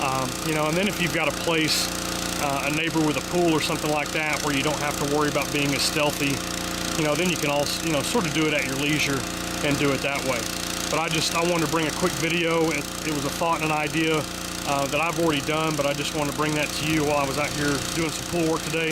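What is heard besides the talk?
engine running nearby during pool work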